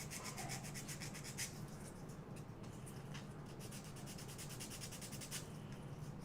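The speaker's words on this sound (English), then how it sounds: "I'll just use the sanding stick." Small sanding stick rubbed over the bottom of a hobby model build, a steady dry scratchy abrasion sounding close and continuous, with quick back-and-forth strokes running throughout.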